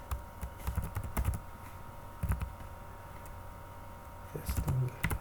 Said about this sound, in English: Let's type in our name.